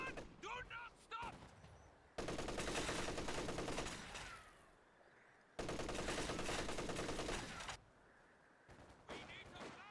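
Bursts of machine-gun fire from a Company of Heroes 2 battle, two long sustained loud volleys amid shorter shots, with game voice callouts between them.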